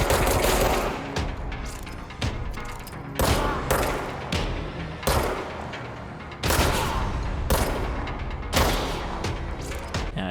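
Bursts of video game gunfire from the shooter Control, with repeated loud volleys of rapid shots and booming impacts separated by short pauses, close and dense across the whole stretch.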